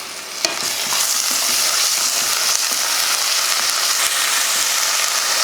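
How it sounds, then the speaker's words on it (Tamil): Large onions frying golden in oil in a pan for kuska, a loud continuous sizzle with occasional stirring scrapes and clicks, close up and without speech. "ஒரு 2 பெரிய வெங்காயத்தை போட்டு நல்லா பொன்னிறமாக வதக்கிடலாம்."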